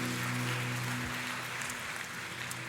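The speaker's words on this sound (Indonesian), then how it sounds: "Kasih tepuk tangan yang paling meriah buat Tuhan kita" A church congregation applauding together, a dense continuous wash of clapping that fills the space evenly, with a sustained musical tone underneath fading out partway through.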